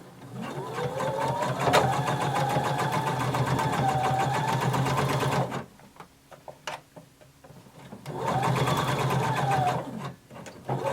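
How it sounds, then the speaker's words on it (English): A sewing machine runs steadily while stitching close to the edge of a bodice lining, stopping briefly midway with a few soft clicks before the motor resumes its busy, even whir. "you're going to sew close to the edge on the lining"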